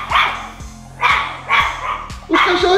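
Dogs bark close by in four sharp bursts about half a second apart, with a low electrical hum underneath.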